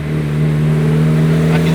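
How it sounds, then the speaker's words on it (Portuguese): A Fiat Bravo 1.8 stage 2 car engine runs with a loud, steady low hum and smooth even drone, heard up close and alone, without clear rising revs. "esse vídeo aí pra vocês mais ouvir o som do carro"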